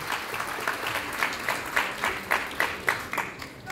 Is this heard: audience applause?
yes